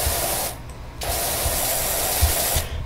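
A power washer blasting a grill in the Power Wash Simulator game, a loud continuous hissing spray that cuts out briefly once and resumes, with a faint low rumble beneath and no voice.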